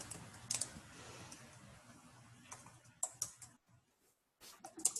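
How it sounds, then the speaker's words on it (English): Quiet keyboard typing during an online team meeting, with scattered clicks and short bursts of keystrokes separated by near silence, soft and close. "Are you typing?"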